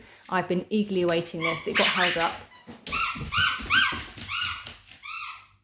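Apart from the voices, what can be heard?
dog whimpering and barking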